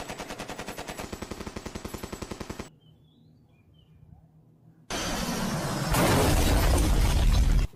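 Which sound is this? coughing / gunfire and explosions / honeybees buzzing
gunfire and explosions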